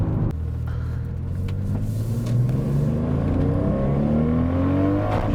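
A Toyota Supra accelerates hard, its engine note climbing steadily in pitch over a deep, continuous rumble, loud and close with no one talking.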